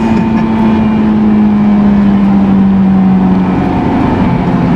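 A 2003 Honda S2000 engine sustains a loud, steady high-RPM drone heard from inside the car, its pitch sinking slightly toward the end, with no talking.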